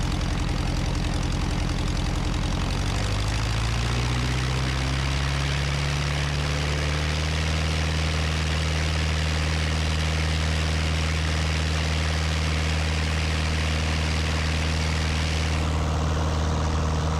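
A small propeller airplane engine drones steadily at close range through takeoff, its pitch rising in the first few seconds and then holding a loud, even roar from inside the cabin, with no one speaking.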